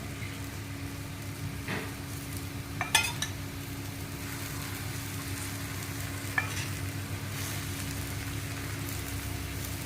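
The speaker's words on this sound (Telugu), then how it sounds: "ఆ గ్రేవీ వేసి కొంచెం ఫస్ట్ స్ప్రెడ్ చేద్దాం" Mutton curry gravy being spread over a dosa on a hot griddle, a continuous close sizzle with a few sharp scraping and clinking strokes from the spreading utensil.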